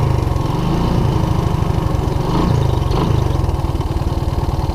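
A Honda ATC185S three-wheeler that had been sitting unused idles loudly with the choke on, its small engine thumping in a steady, fast, slightly uneven rhythm up close with no voices.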